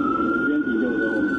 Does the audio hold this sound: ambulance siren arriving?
yes